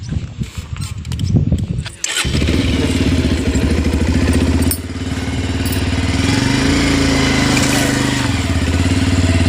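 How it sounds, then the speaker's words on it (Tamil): A motorcycle's engine is kicked over after some clattering handling, catches with a sharp start, then settles into a loud, close, steady idle with one brief rev partway through. "வண்டி ஸ்டார்ட் பண்ண போகிறாங்க"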